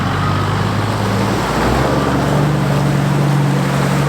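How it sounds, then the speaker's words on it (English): A Toyota Land Cruiser 80 Series fords a deep water puddle, its engine rumbling low and loud as water sloshes and rushes around the vehicle, continuous throughout with no talk. "So we're gonna see him go through this really deep puddle right here."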